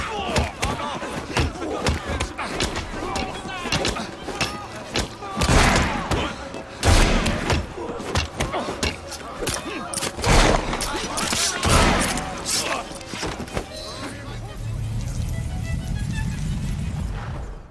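Gunfire from a Victorian London cutscene in Assassin's Creed Syndicate: sharp loud bursts and scattered shots with thuds and crowd commotion, fading to a muffled rumble at the end.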